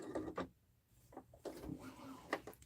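A sewing machine backstitches on a patchwork duffle bag, with short mechanical whirring bursts separated by brief pauses.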